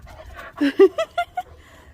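A dog panting in a backyard: a short run of about five quick, breathy pants with a faint whimpery tone, close by, then quiet.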